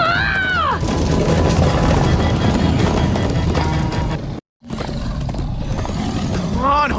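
Galloping horses in the Minecraft Story Mode video game, a dense rumbling pounding that runs steadily under loud, excited talk and shouting, with a brief dropout near the end.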